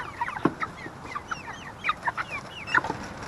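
Five-week-old meat chickens cluck and chirp in short scattered bursts, several birds close by, in a homestead pen with no one talking.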